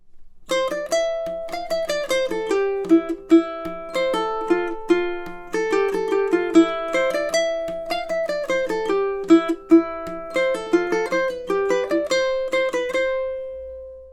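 A lone ukulele plucks the lively A-part melody of St. Anne's Reel, an Irish folk fiddle tune: quick, bright picked notes in a bouncing reel rhythm, close and clear, ringing out to a stop near the end.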